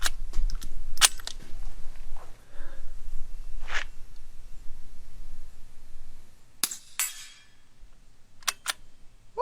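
A suppressed gun fires several times at a steel target, each soft report followed by a short metallic ring from the struck plate, with sharp isolated impacts spread across a quiet outdoor background.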